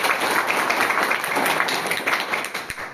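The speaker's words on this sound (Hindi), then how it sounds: "मैं चाहता हूँ इनके लिए जोरदार ताली एक बार।" Audience at a railway pensioners' association gathering breaking into loud, dense clapping that fills the space from start to finish.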